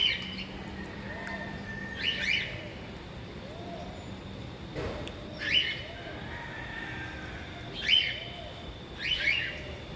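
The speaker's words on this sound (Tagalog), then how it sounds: "Ayan. Yung parrot. Hindi man nagsasalita yung parrot." Parrot calls in the bird garden at Crocolandia, Talisay, Cebu: a few short, bright squawks spaced several seconds apart over a steady outdoor background hum.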